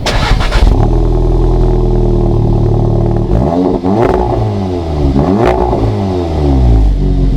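Audi S3 fitted with a Remus catback exhaust and resonator box revving hard: a loud, sustained engine drone, then repeated rising and falling throttle blips, close up with no talk.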